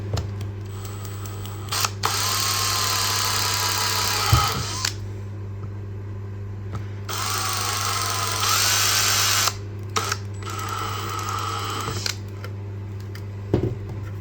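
A power drill bores into an electronics enclosure in three long bursts of steady whine. Each burst runs a few seconds, with short pauses between them and a low constant hum underneath.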